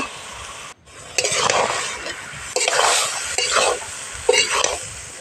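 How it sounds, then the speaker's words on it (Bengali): Malabar spinach (pui shak) is stirred and mashed in a hot pan, giving up-close scraping and stirring noises over a soft sizzle, with occasional clinks of the utensil against the pan. "আমি পুঁই শাকগুলো দিয়ে দিব। ভালো করে ছড়িয়ে দিয়ে ম্যাশ করে নিব।"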